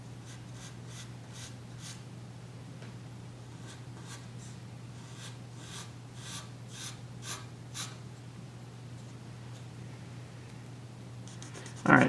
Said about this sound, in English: you can come in with an eraser and tighten it up